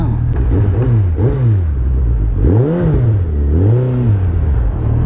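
Superbike engine revved repeatedly in rising and falling sweeps, loud and close, with a steady engine drone underneath and no talk.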